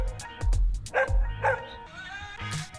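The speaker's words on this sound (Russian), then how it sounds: "Пес, там много собак." Several dogs bark and yip in a video game, a quick cluster of sharp barks followed by whimpering yelps, loud and close.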